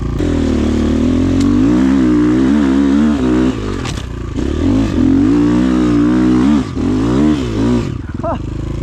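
A Rottor Nemesis 250 motocross motorcycle rides close and loud into sand, its engine rising and falling through repeated throttle swells and gear changes. The engine fills the whole stretch without pause.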